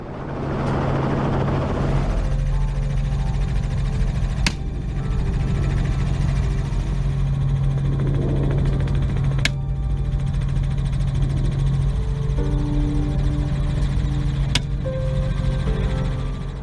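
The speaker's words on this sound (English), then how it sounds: "an intense helicopter pursuit begins" A helicopter flies during a feral hog hunt, its steady rotor and engine drone loud and continuous throughout, with faint periodic thumps and no talk.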